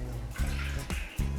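Lukewarm water is poured from a kettle for sourdough bread dough, giving a short, close splashing trickle with a few brief gurgles, heard alone.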